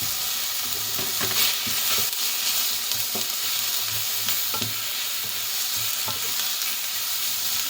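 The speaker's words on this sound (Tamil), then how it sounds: "அடிக்கடி கரண்டி வச்சு இப்படி தட்டி விட்டு கொண்டு இருக்கோம்" Leeks and grated carrot sauté in a pan for bread kottu, producing a constant loud sizzle while a ladle taps and scrapes the pan at an irregular rhythm, with no voices.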